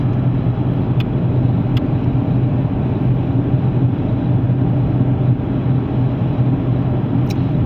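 A 2005 Jeep Liberty Renegade engine runs at a steady idle, a loud continuous low rumble with no revving, heard close up with no talking.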